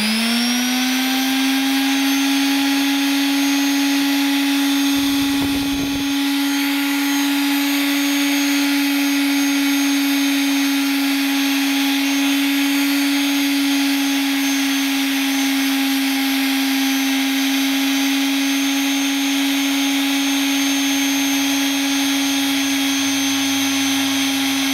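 A power sander smooths a cherry wood tabletop with a loud, continuous high motor whine that barely changes pitch, dipping only briefly once before running on steadily.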